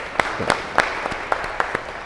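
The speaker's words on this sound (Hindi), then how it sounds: "उसके लिए बहुत बड़ी तालियां।" Sparse, scattered claps from a small audience at a cheque distribution programme, honouring the ashram trustees, a handful of distinct hand claps spread over a couple of seconds.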